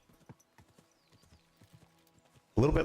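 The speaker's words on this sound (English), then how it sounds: "There's another horse coming." Light, rhythmic clip-clop of video game horse hooves at a walking pace, fairly faint, followed by a sudden loud burst at the end.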